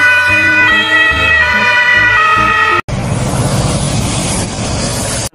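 A loud electronic toy ambulance siren wails in a cycling tone, cut off abruptly, then followed by a harsh, noisy whirring siren sound.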